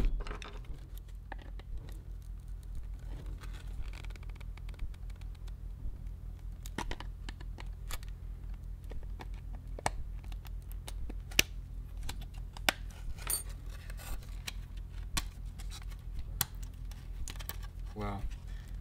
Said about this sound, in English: I'm gonna cut through that section right where it's welded together